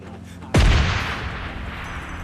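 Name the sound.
RPG explosions in video game PUBG Lite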